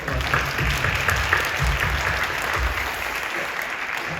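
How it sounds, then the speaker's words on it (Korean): Church congregation applauding during a worship service, a steady wash of many hands clapping throughout, moderately loud, with no clear talk over it. "박수 먼저 한번 해주시죠"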